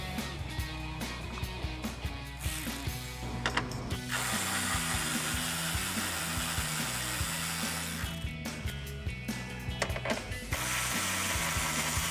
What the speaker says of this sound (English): So I'll use my 10mm socket on a ratchet and pull those out.